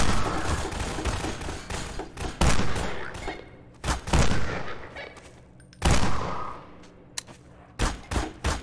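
Shotgun blasts in Garry's Mod, loud and close, arriving as a heavy run of booming shots with brief quiet gaps between clusters, each blast sharp at onset and trailing into rumble.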